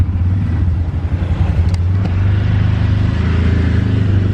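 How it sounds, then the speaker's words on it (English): Riding in a tuk-tuk through Cambodian streets: a loud, close, continuous engine drone and low rumble with steady road noise and no break. "Got my first tuk-tuk"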